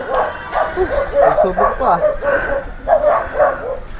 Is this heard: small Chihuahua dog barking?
yes